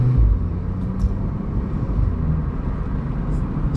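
A 2016 VW Polo 6C GTI with the 1.8 TSI turbo engine cruises while short shifting, producing a steady deep engine drone and low rumble heard from inside the cabin, even and moderately loud throughout.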